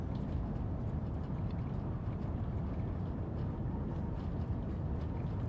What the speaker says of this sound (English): We'll let you listen to a Class 47 in the background.